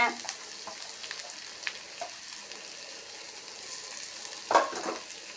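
Freshly grated coconut fries in a pan on a low simmer while making raw banana kola urundai, giving a soft, steady sizzle broken by occasional stirring scrapes and clicks.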